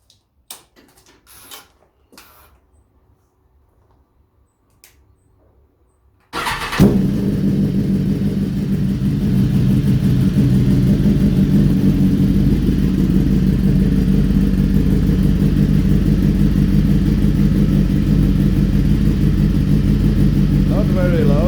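A BMW S1000RR motorcycle fitted with an Arrow X-Kone exhaust, cold on a 31-degree day: after several seconds of quiet with a few small clicks, the engine fires and settles into a loud, steady, close idle rumble that runs to the end.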